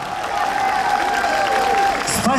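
An audience at a Tbilisoba festival concert in Minsk applauds a Georgian vocal ensemble, with steady, dense clapping filling the hall. A voice speaks over the applause near the end.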